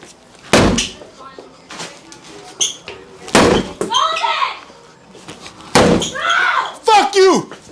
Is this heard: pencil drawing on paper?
no